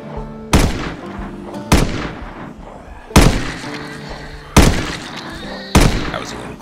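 Gunfire in the zombie video game Project Zomboid: five sharp, loud shots spaced about a second apart, each with a decaying echo tail and a faint ringing tone between shots.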